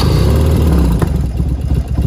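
A BMW R100 motorcycle engine, rebuilt in brat style, runs loud and close with a rough, throbbing idle, then a brief sharp change about halfway through before it settles into a steady pulse.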